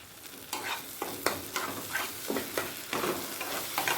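Mustard and cashew paste frying with tomato in a pan for a pomfret curry, with a steady sizzle and a regular series of scraping stir strokes roughly every half second, close and alone.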